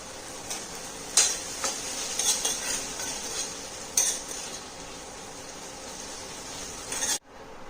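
Spices, red chilli powder, green chillies and garam masala sautéing in a pan for a masoor dal tadka, a steady close sizzle broken by sharp spoon scrapes and clinks, ending abruptly.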